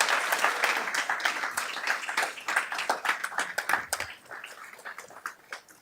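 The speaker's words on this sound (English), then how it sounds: "Let's give our classified substitutes a round of applause." A small audience at a board of education meeting claps with scattered, uneven beats, strong at first and then thinning out and fading toward the end.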